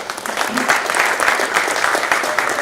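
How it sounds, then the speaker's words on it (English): A crowd claps at a boxing press conference for Kovalev versus Shabranskyy, a short burst of steady, fairly loud applause with no speech on top. "we give these people a big round of applause, please"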